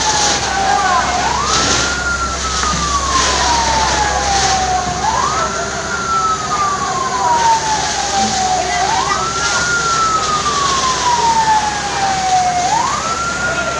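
A wailing fire engine siren from one of several fire trucks answering a blaze at a rural landfill in Aceh, Indonesia, rising and falling in slow repeated sweeps, loud and near, with engine rumble and voices underneath.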